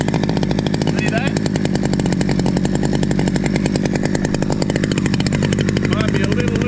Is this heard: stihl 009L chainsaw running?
yes